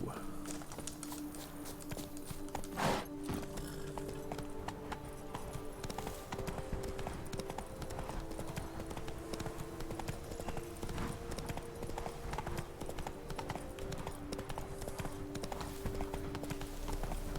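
Roach, the horse in The Witcher 3, trots with steady rhythmic hoof clip-clops over ground for the whole stretch, close and fairly quiet, with faint game ambience beneath.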